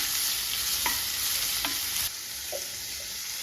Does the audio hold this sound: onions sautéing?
yes